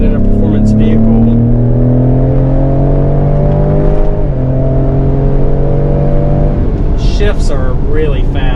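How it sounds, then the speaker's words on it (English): A 2020 Ford Explorer ST engine pulls hard and rises in pitch through quick gear changes, loud and close, with a voice briefly speaking near the end. "Shifts are really fast. I hope you can hear that."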